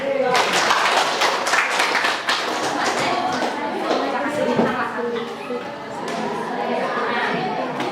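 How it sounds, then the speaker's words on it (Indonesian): Students in a classroom clap for a classmate after his answer during a lesson on fables, a loose, uneven patter of hands mixed with chatter and talking voices. "Bagus, tepuk tangan"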